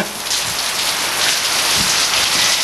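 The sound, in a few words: pouring rain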